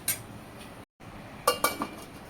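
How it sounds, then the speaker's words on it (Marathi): A metal lid clinks down onto a cooking pot of Vidarbha-style patwadi rassa curry, a few sharp close taps and rattles over a faint low-flame background. "आता याच्यावर मी झाकण ठेवणार आहे"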